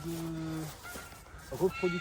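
Geese honking nearby at a breeding farm, a few drawn-out calls followed by shorter honks, with a faint voice and farmyard background.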